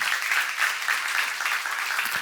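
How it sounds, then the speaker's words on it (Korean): A church congregation at a sermon seminar claps together in a brief, steady burst of applause from many hands, close and evenly sustained for about two seconds. "박수로 하나 더 주세요"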